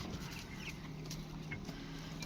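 Chickens clucking softly in a backyard flock kept with a rooster, a faint, steady chatter of low calls throughout.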